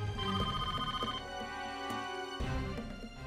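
A telephone rings with an incoming call in an indoor drama scene, a brief stretch of electronic ringing tones, fairly close and steady, without any voices.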